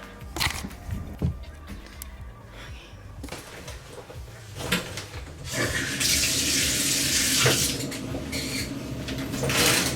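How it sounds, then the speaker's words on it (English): Steady hiss of shower water running in a home bathroom, close and loud, with a few knocks and clatters early before the spray settles into a continuous rush. "I'm gonna take a quick shower."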